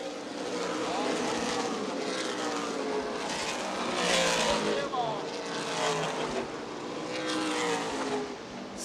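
Stock cars racing at Winchester Speedway in an ARCA/CRA Super Series event, a continuous roar of engines passing with swells in volume, under a race commentator's voice.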